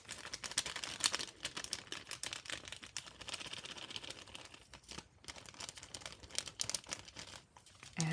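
Plastic crinkled close up, a continuous crackly rustle with sharper snaps near the start, no voices.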